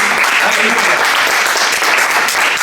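A church congregation applauds loudly and continuously, dense clapping from many hands filling the space at an even level throughout.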